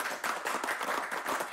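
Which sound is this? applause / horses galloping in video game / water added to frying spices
applause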